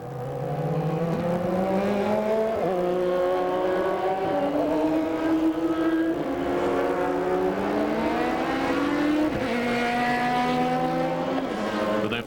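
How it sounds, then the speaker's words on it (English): A Ferrari Modena race car laps Monza in an LMES race, its engine loud and close with rising revs, sharp gear changes and repeated climbs in pitch, other cars whining alongside. "Response is given by the Ferrari Modena of Scuderia Ecos, driven by Kirkcaldy and Kinch."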